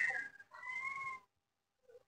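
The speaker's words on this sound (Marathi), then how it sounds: "त्याच्यामध्ये मांजर आहे, आहेत का आता?" A cat at an animal shelter gives two close, drawn-out meows, the second longer and rising, then falls silent before a faint stir at the end.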